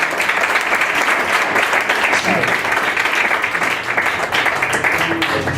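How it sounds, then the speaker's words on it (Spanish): Applause from a church congregation giving praise, a dense, steady wash of clapping that stays loud and continuous throughout, with faint voices mixed in. "Den un aplauso al Señor, por favor."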